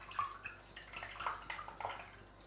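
Gum arabic solution squeezed through cloth and dripping into a container, soft irregular wet drips and trickles close by at low volume, no talk.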